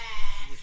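A sheep on a farm near Nazareth gives a single short bleat close by, with a wavering pitch, amid light outdoor background noise.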